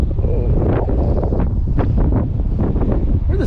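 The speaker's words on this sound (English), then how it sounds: "Where'd this wind come from" Gusty wind buffets the microphone at a wooded fishing spot, a loud continuous low rumble with irregular surges throughout.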